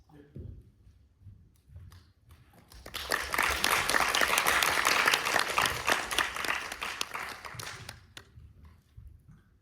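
Sustained audience applause at a China–Australia investment panel talk swells in after a quiet moment, holds steady for several seconds, then fades away, with faint speech at the edges.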